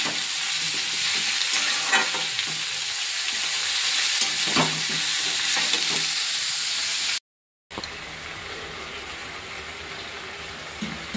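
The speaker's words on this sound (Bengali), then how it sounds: "একটু ভাজা করে নিই চাল কুমড়োটা।" Ash gourd pieces frying in a pan and being stirred, a continuous close sizzle with scraping spatula strokes, briefly cutting to silence before a quieter stretch of frying.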